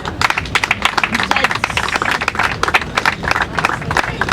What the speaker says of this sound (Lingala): J'aimerais sans tarder vous demander quand même d'applaudir très fort pour maman Karine Pala.